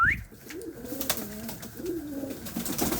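Pigeons cooing nearby in a home loft, soft repeated low throaty coos in a steady rhythm with a brief higher chirp at the start, over light background noise.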